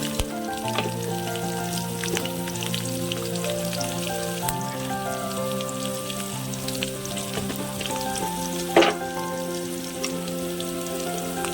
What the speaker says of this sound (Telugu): ఎండుమిర్చి బాగా వేగాలండి.